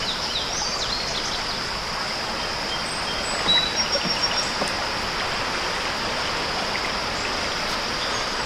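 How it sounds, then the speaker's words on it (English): A river flows beside a limestone trail in a nature preserve, making a continuous broad rushing wash that stays steady and moderately loud, with faint bird chirps above it and no voices. "The river is still right down there."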